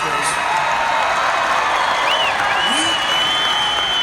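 A large rally crowd roars and cheers continuously, a loud, dense wall of voices with scattered whistles and whoops and no break.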